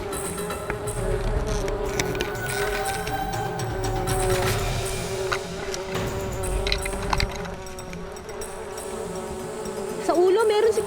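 A dense swarm of honeybees at a wild hive drones continuously during honey gathering, several wavering buzzing tones layered close by with smoke in the air. People talk and shout underneath.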